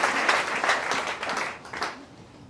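A church congregation applauds together, a full, close round of clapping with slight swells that tapers off toward the end, no talking over it.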